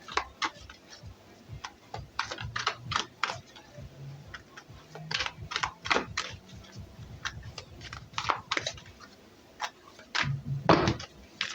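Tarot cards being shuffled by hand, a run of quick, crisp flicking and riffling taps in uneven bursts, fairly close, with brief pauses and faint low background noise.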